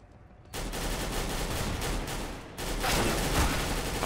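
Gunfire from Counter-Strike: Global Offensive bursts out in two dense rapid volleys, loud and close, with no talking.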